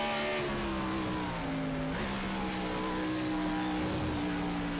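A NASCAR Xfinity race car in iRacing at Watkins Glen holds a loud, steady engine drone with sustained revving pitch that shifts up and down, close and continuous throughout.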